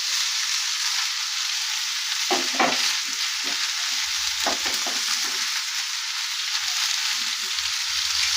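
Ridge gourd and green chilies stir-frying in hot oil, a steady bright sizzle with the scrape and knock of a spatula stirring through the pan at irregular moments, close up and without any talking.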